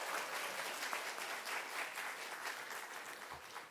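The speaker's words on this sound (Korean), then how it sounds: "다시 한번 박수로 쳐주시면 감사하겠습니다" A church congregation in a Korean service claps in sustained, even applause, a fairly quiet and distant wash of hands that continues throughout with no talking.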